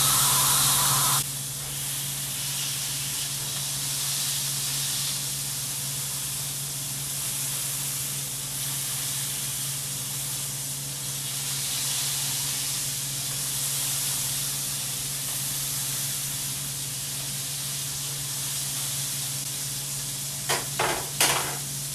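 A burger patty sizzles loudly in a hot pan while a spatula presses it down, producing a steady hiss and crackle that holds throughout, with a few sharp scraping clicks near the end.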